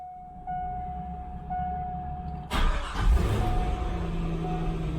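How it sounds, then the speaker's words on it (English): A C5 Corvette engine cranks over with a starter whine and catches with a loud burst, then settles into a steady close idle, after a quiet stretch with a faint electronic chime tone in the car. "we're going to start the engine and get it up to 210 degrees"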